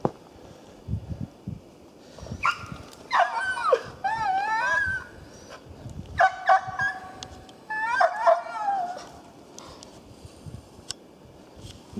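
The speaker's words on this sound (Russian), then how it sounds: "Собака белку нашла." A hunting dog in a forest yelps, whines and barks in excited bursts at a squirrel, high-pitched and close, with pauses between, over quiet outdoor background.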